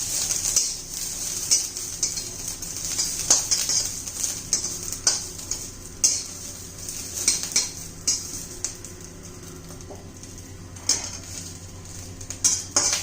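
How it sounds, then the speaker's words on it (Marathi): Garlic and chillies fry in a pan as a spatula stirs them: steady sizzling hiss runs throughout, broken by frequent close metallic scrapes and clinks against the pan, with no voices. "लसूण घालू लसूण तोही थोडा फ्राय करून घेऊया"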